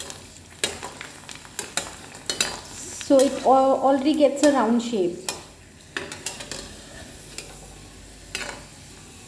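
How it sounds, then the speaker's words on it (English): Pani puri frying in hot mustard oil, a steady sizzle with scattered clicks of stirring and utensils, while a person speaks briefly partway through. "in the hot sarson, the mustard oil"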